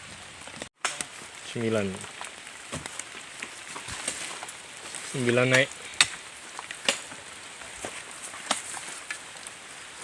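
Rain falls steadily around an oil palm fruit weighing scale, a continuous soft patter with scattered sharper drops, while a voice speaks briefly twice over it.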